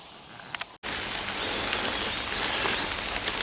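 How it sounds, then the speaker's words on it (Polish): Rain falls steadily in a Polish forest apiary beside an artificial tree-cavity beehive, a dense even patter on surfaces that starts abruptly after a brief silence and continues loud. "Pogoda się niestety nie udała, od rana pada."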